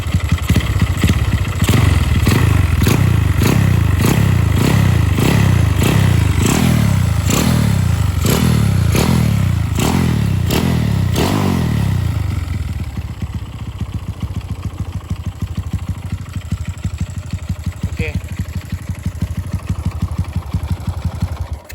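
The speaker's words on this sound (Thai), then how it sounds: "นี่ครับเสียงเครื่อง อาจจะดังหน่อย" A motorcycle engine runs loud and close, revving in repeated rising pulses for about twelve seconds before settling into a steady, rough idle.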